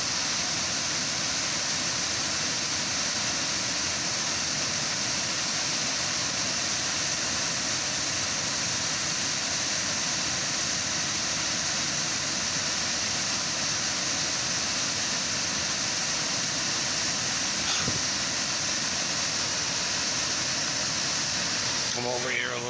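Water flows in a steady, dense rush that stays loud and even from start to finish, with a brief sharp click near the end.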